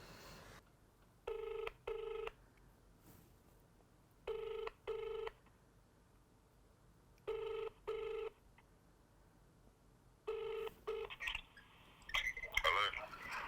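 A telephone ringback tone during an outgoing call repeats four times as evenly spaced double rings with pauses between, faint and steady, before a brief burst of other sound at the end.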